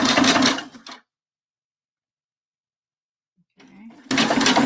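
A sewing machine stitches bra fabric, with one buzzing run at the start and another at the end, separated by near silence.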